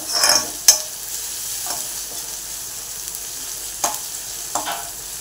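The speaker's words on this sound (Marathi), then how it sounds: "हे छान मिक्स करून घेऊ, परतून घेऊ." Onion and capsicum stir-frying in a pan for schezwan fried rice over medium heat, with a steady soft sizzle and a few sharp scrapes and clacks of the spatula, moderately close and without talk.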